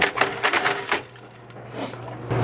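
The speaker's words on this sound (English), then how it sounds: "Grommet machine." An old grommet machine in a finishing workshop runs with a quick series of sharp mechanical clacks and thumps, then settles into a steady motor hum, close and fairly loud.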